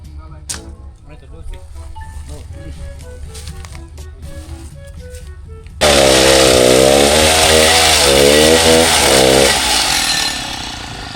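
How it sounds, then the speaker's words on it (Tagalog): A chainsaw cuts through wood on a fencing job, the engine suddenly roaring loud and close and holding a rising, wavering pitch under the cut before easing off; clicks and background sounds precede it. "Mabilis po si Kuya mag-chainsaw."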